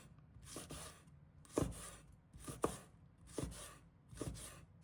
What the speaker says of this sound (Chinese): 小米辣切成小圈